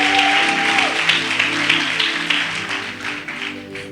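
A church congregation applauds together in a steady wash of clapping that holds for the whole stretch, with music playing underneath.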